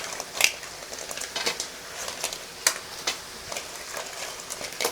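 Crab tossed into a pan of sautéed onion and tomato for a crab gravy, giving steady frying sizzle with scattered stirring scrapes and a few sharp clinks, close and moderately loud with no talking.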